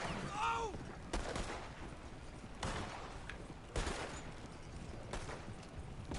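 Gunfire in a video game, several loud distant-sounding shots or bursts spaced a second or so apart over a noisy background, with some faint voice-like sound early on.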